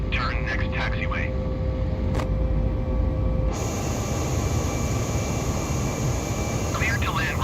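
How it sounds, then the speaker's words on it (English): An airliner climbs out just after takeoff, its jet engine roar a loud, steady broadband rumble heard from inside the cabin, with faint radio chatter early and again near the end. "So as you can see, we have just took off."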